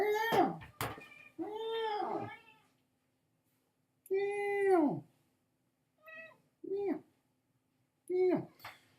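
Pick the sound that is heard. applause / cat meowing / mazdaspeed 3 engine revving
cat meowing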